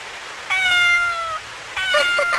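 A kitten left alone outdoors in cold rain gives two high, plaintive meows a moment apart, loud and close, each one drawn out and wavering.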